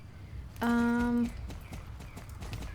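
A horse's hooves clip-clop steadily in the Star Stable riding game, a regular run of soft, close hoofbeats interrupted early by a loud, held tonal cry.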